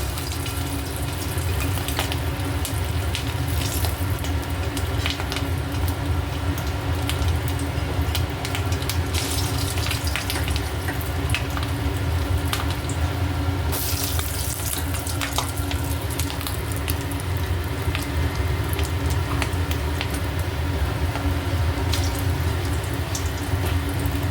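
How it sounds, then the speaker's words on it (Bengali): Fish egg fritters dropped one by one into hot oil in a kadai on a gas stove, giving a loud, steady, crackling sizzle that continues without break. "এবার আমি বড়াগুলো এক এক করে ছাড়বো আর ভেজে নেবো"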